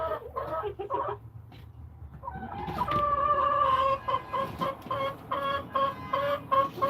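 Light Brahma and Jersey Giant hens in a nesting box, clucking and drawn-out cackling calls, close and moderately loud, coming in a steady run of repeated notes after a brief quieter start.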